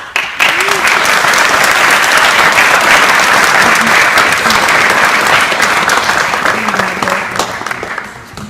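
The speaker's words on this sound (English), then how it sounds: "One more round of applause." Sustained audience applause after a keynote speech fills a hall, a dense wash of clapping from a large crowd that holds steady and tapers off at the end.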